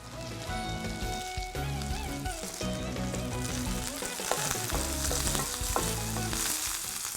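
Curry leaves and green chillies crackle and sizzle in hot oil, a loud, steady frying hiss with sharp pops scattered throughout.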